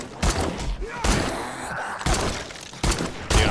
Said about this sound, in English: I hear, like, the gunshots.